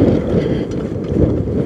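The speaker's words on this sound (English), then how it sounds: "Windy, windy, windy, windy." Wind buffets the microphone while riding a road bike, a loud low rumble that surges and dips without letup and drowns out other detail.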